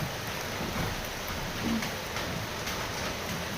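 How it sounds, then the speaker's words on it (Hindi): Steady rain falls, a dense even hiss of drops with no breaks, fairly loud and close, with no voices over it. "देखिए बारिश हो रहा है, बहुत अच्छा।"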